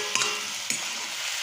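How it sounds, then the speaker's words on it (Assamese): Meat frying in a pan is stirred while it cooks for a home-made lunch, with a steady sizzle and two sharp scraping strokes of the spoon. "আপোনালোকে মাংসটো দিলোঁ এতিয়া লৰাইছোঁ"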